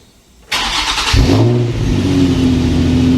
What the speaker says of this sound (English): Let's go ahead and get that cold start going.